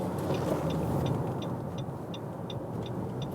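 A Nissan Qashqai with a 1.6 liter turbo petrol engine driving, heard as a steady, smooth engine and road hum from inside the car, with faint regular ticking above it and no talking.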